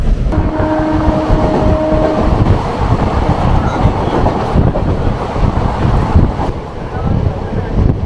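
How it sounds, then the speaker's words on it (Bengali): A local train rolls into Dum Dum Junction, its loud rumble and rattle of wheels heard from on board, with a steady tonal whine early on and no speech. "ট্রেন আপনার যথারীতি ঢুকছে দমদম জংশন।"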